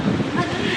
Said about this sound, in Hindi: पूरा पानी बरस रहा है